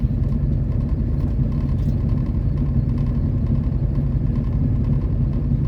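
A tractor grader engine works steadily nearby, a loud continuous low rumble that holds even for the whole stretch with no talk over it.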